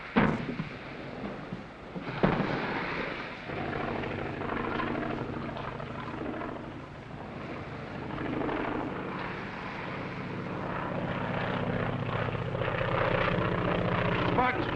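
Airplane engine approaching overhead in an old adventure film set near Guam, a steady droning propeller hum that swells gradually, with a voice speaking briefly over it.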